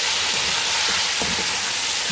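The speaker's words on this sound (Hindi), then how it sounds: "और ये एक एक पीस करके हमने इसे फ्राई करना है" Chicken pieces for biryani frying in a pan of hot oil, a steady dense sizzle with a few soft pops and bubbles, close and continuous with no talking.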